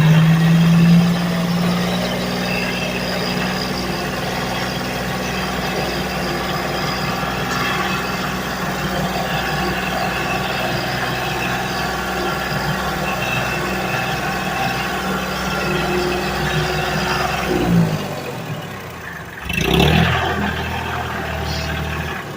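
An old Ford 1720 tractor engine runs steadily at a low idle, a continuous close diesel drone with a low rumble, then shifts and briefly cuts out near the end.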